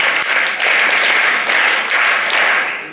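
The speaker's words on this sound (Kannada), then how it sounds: "ಅಭಿನಂದನೆಗಳನ್ನು ಚಪ್ಪಾಳೆಯೊಂದಿಗೆ ನೀಡೋಣ" An audience applauds at a school association inauguration at Sri Ramakrishna aided high school, Pavur: dense, continuous clapping from many hands, loud and sustained throughout.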